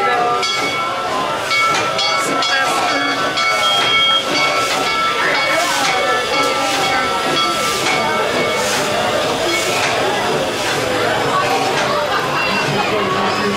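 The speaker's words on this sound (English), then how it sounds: "It's coming in the station, the Holly Jolly Express." The Holly Jolly Express park train at Busch Gardens Christmas Town in Tampa pulling into its station, with steady hissing and mechanical rumble amid busy crowd chatter and talking nearby.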